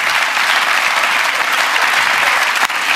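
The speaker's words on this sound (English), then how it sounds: "Huge round of applause." A studio audience on a quiz show applauds, dense steady clapping that fills the room, loud and sustained throughout.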